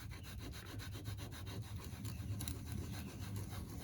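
Stropping compound is rubbed into a leather strop with quick, rhythmic back-and-forth scrubbing strokes, a soft, close, dry friction sound with no voices.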